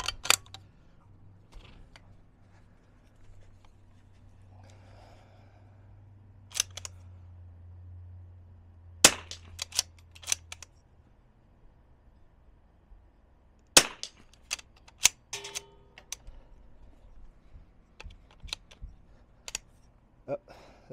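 The bolt of a Zermatt Rim-X rifle worked to chamber rounds from a metal magazine, sharp metallic clacks and clicks in irregular bursts, close and crisp against near silence, with brief talk between actions.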